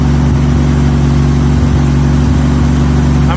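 A 1933 Auburn V12 boat tail Speedster engine runs after a fresh start following decades in storage, a steady, loud, close mechanical drone with a rough, slightly uneven idle and no voices.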